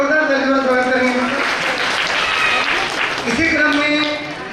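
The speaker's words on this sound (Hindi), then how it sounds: "इन सबके लिए एक बार जोरदार तालियां स्वागत करेंगे।" An audience claps loudly and steadily in a dense burst at a donation ceremony, with a voice speaking over the applause before it begins to fade.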